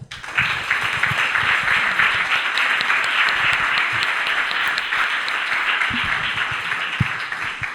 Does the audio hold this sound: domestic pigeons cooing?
no